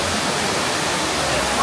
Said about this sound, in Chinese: 大家看我后面巨大的瀑布，我觉得超级无敌美的